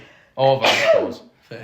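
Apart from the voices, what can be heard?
sneeze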